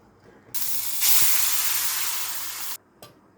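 Cooked toor dal with cucumber and tomato hits a hot tempering in a kadai, bursting into a loud, steady sizzle that hisses for about two seconds before cutting off.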